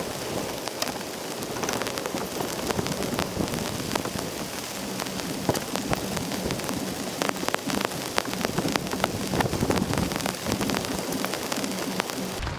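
Heavy rain pours steadily and densely onto surfaces nearby at a truck campsite on Hawaii's Big Island, a constant loud hiss with sharp drips and patters throughout.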